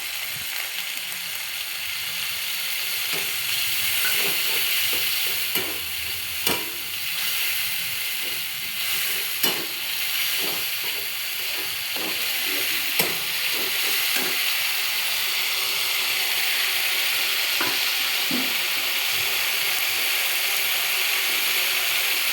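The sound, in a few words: soaked spice paste sizzling as it is added to frying rohu fish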